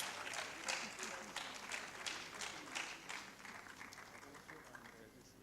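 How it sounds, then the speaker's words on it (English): Audience at a book launch applauds a head teacher as he comes on stage, a steady, moderately distant round of clapping from a crowd that gradually thins toward the end. "A round of applause as he comes"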